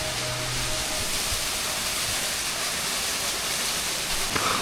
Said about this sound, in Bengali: এখানে ছোট্ট একটা ঝর্ণা টাইপের